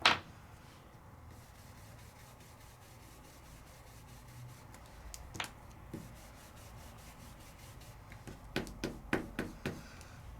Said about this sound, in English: And then rub this one off to get the red off of it.